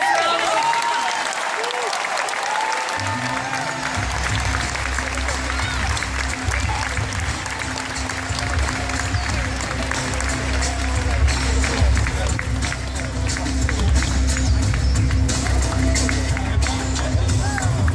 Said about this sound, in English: Give them the biggest round of applause.